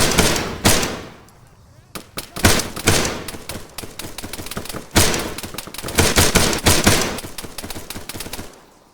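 Dense bursts of automatic machine gun fire in the ArmA 3 military shooter, with rapid close gunshots and scattered louder reports filling the clip; a voice shouts briefly amid the firing.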